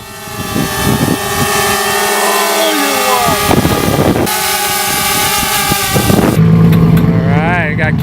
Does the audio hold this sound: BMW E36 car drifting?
yes